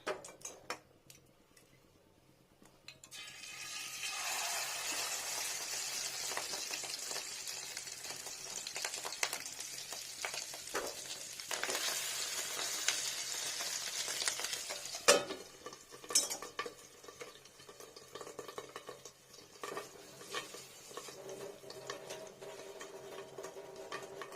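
Fish roe fries in oil in a pan, giving a steady, fairly quiet sizzle and bubbling hiss throughout, with occasional light clicks and scrapes of a utensil against the pan.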